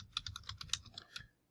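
Quick typing on a computer keyboard while entering a drawing title in SOLIDWORKS, about a dozen crisp close keystrokes in an uneven rapid run, then quiet.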